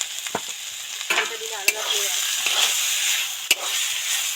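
Banana flower curry being stirred in a pan after Kitchen King garam masala goes in, soft sizzling with scraping strokes and a few sharp spoon clicks against the metal.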